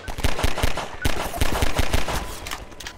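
Rapid machine gun bursts rattle in Half-Life 2, loud staccato volleys with brief pauses between strings of shots.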